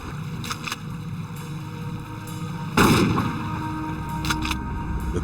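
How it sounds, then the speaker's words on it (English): A single loud gunshot booms over open water as slugs are fired into a floating cooler, with a few fainter sharp reports before and after against steady outdoor background noise. "sink the cooler by firing slugs into it"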